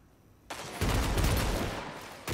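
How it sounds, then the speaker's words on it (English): A Hammerhead machine gun in the shooter Destiny 2 opens up after a brief quiet, a loud continuous stream of rapid automatic fire rattling for nearly two seconds before cutting off. "A little bit too far for the machine gun."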